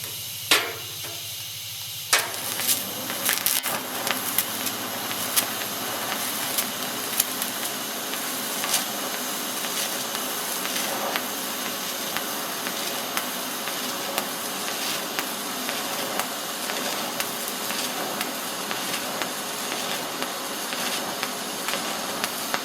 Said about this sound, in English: This is the first time I think I've ever TIG welded, and I didn't use a foot pedal.